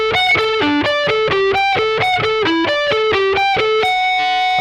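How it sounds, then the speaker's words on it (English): A heavily distorted electric guitar plays an intro riff, a fast, even run of bright picked notes that repeats its pattern before ringing out on a sustained final note. "he uses quite a lot of distortion on his guitar sound"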